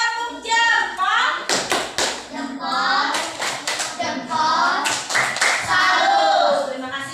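A class of children performs a rhythmic clapping chant in an Indonesian primary school lesson, sharp hand claps and taps mixed with loud young voices chanting together, close and energetic.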